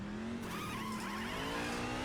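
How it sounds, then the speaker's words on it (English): A race car in the iRacing video game spins its tires leaving the pit lane, giving a sustained tire squeal over a steadily rising engine tone, loud and continuous with no talk. "I was lighting the tyres up there trying to get out."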